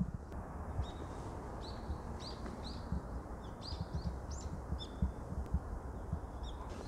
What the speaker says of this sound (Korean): 여기가 새소리가 엄청난다